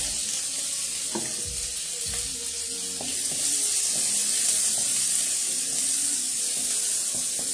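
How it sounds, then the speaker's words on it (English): Chopped onions sauté in hot oil in a pot that still held some water, giving a steady, close bubbling sizzle with scattered pops and spatters, with no talk over it. "The reason it bubbles so much, the pot had water, so you know oil and water, they don't really mix"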